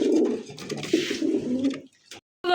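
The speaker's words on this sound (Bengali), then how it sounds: "দুইটা কবুতর কিন্তু খুব সুন্দর কষা গোল কষতেছে" Two high-flyer Giribaz pigeons at a pigeon sale coo close by in low, rolling repeated phrases, then briefly fall quiet before another call starts.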